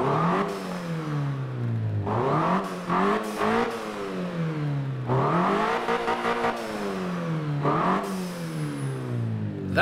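A small 1.6-litre turbocharged car engine revs in Forza Motorsport 7, loud and close, climbing and dropping repeatedly through sharp throttle blips and gear-like sweeps with no talk.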